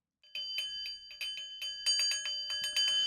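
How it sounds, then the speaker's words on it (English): A singing bowl is struck in a series of light metallic strikes, each leaving sustained bright tones that overlap and build into a shimmering wash toward the end. "Why does it sound like I'm afraid to hit that fucking bell?"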